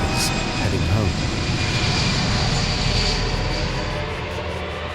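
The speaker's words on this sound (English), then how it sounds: "a chartered passenger flight from Mombasa to Israel takes off" A chartered passenger jet takes off from Mombasa bound for Israel, its engine roar a steady, loud broadband rumble throughout, with a voice talking over it.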